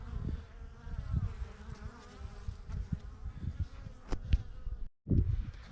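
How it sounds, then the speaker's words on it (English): Swarm of bees buzzing around beehives in spring, a steady dense hum of many insects close by with brief louder passes near the microphone and a short dropout near the end. "even though there's a bunch of bees flying around"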